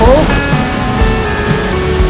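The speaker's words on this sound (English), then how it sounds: "Waterfall." A constant, loud rush of falling water from a waterfall in the Narrows of Zion National Park fills the scene, a broad steady roar without pause.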